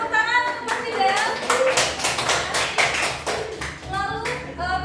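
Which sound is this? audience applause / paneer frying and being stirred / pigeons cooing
audience applause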